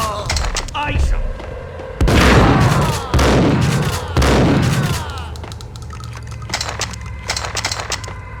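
Gunfire from the video game Max Payne comes in loud, close bursts of overlapping shots and booms, several heavy volleys in a row followed by sparser scattered shots.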